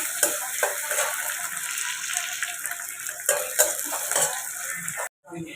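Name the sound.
chopped onion frying in oil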